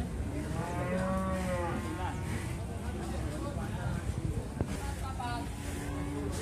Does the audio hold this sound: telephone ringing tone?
no